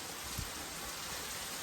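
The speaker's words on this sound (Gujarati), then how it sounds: "અહીંયા વરસાદ આવી ગયો હે જો એકદમ નો જોરદાર" Heavy rain pours down in a dense, continuous hiss, steady and enveloping, with no voices over it.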